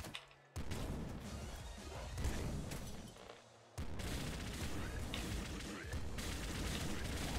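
A golden flare gun fires in the top-down shooter Nuclear Throne, dense crackling bursts and impacts blending into continuous loud game action with a brief lull in between, under a faint voice.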